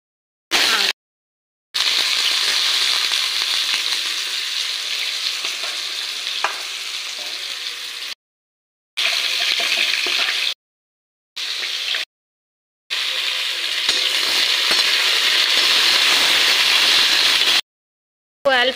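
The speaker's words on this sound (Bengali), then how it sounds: "আমি রসুনটাকে কায়দা করে ভাজি করে নেব" Garlic fries in a pan with a steady, loud hiss and crackle, broken by several short silent gaps; a cooking dish of aubergine, potato and spinach.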